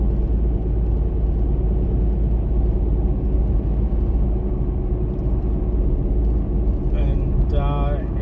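Steady low road rumble and engine hum inside a 2011 Mitsubishi Challenger on General Grabber tyres while driving, with a short burst of speech near the end.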